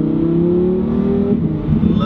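A Lamborghini Huracan Performante engine revving, a strong steady drone with rising harmonic pitch that dips and settles toward the end, heard close amid faint talk.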